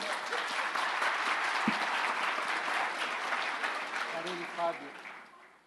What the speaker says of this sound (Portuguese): Palmas pro São.